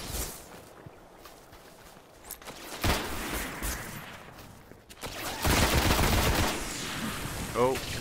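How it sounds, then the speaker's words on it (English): Explosions and gunfire from enemy grenades in the Destiny video game, with bursts of blasts and rattling shots that grow louder in the second half. "Oh, throwing grenades at me."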